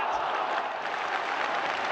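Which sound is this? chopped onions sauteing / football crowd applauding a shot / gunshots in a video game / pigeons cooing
football crowd applauding a shot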